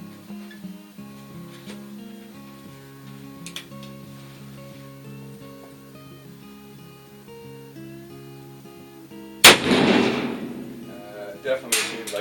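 A single loud shot from an 1858 Pietta black powder revolver fired without a wad, a sharp blast followed by a short decaying tail and a couple of smaller knocks, over steady background noise.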